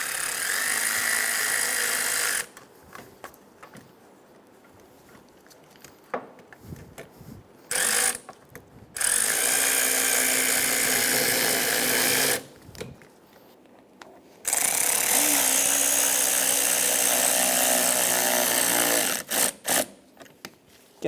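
A ratcheting tool snugs down hose clamps on the air intake boot of a 2012-2020 Chevrolet Sonic. Two long stretches of rapid, close mechanical whirring are broken by quiet gaps with small clicks and handling noises.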